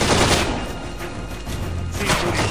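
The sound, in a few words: rapid gunfire in video game Splinter Cell Conviction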